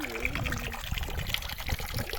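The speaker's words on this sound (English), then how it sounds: "To drain the water that we've just used right now, we are going to open our button again" Water drains steadily from the tap of a water dispenser as it is being cleaned, a close gurgling trickle with a person talking over it.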